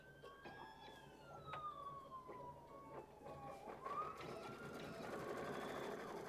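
A sewing machine stitches all the way around two joined fabric pieces, a faint continuous run with some shifting tonal sweeps.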